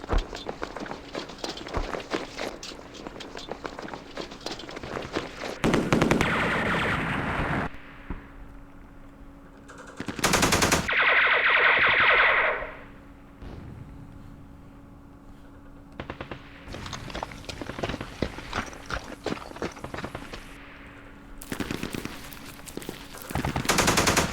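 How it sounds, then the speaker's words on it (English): Machine gun fire in the war game Campaign Series Middle East comes as loud rapid bursts, several separate volleys broken by quieter stretches with shorter shots and footstep-like thuds in between. "Let's deal with this machine gun first."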